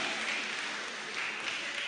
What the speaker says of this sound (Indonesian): Mari berikan tepuk tangan untuk 23 peserta.